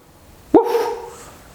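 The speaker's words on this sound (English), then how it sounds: "The dog." A single loud, close bark from a dog, one sharp onset with a short ringing tail, heard alone with no talk.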